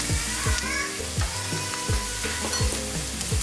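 Curry powder and turmeric sizzle and fry in a pan over caramelized onions for a chicken curry, a loud steady crackle broken by regular scraping strokes of a stirring utensil about every half second.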